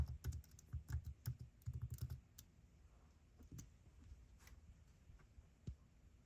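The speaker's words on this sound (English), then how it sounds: "We'll see if I typed the password in right." A password is typed on a computer keyboard, a quick cluster of close, quiet key clicks for about two seconds, followed by a few isolated taps and near silence.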